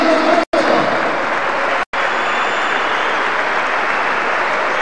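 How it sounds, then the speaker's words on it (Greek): A basketball crowd at an AEK home game applauds loudly and steadily from start to finish, with two brief dropouts in the sound. "Ο Γιώργος Τρότζος ανταποδίδει το χειροκρότημα προς το κοινό της Ένωσης"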